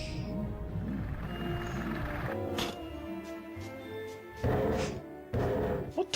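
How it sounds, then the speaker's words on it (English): Heavy thuds and grunting roars from a PS1 Harry Potter and the Chamber of Secrets game fight, a low rumbling stretch followed by two loud bursts of impacts near the end. "That's the noise of someone jumping on top of a washing machine."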